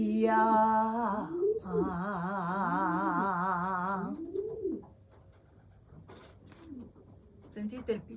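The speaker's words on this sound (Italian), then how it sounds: "Sentite il piccione?" Loud warbling, wavering tones that rise and fall over the low cooing hum of pigeons mating inside a house, then fading into quieter scattered sounds near the end.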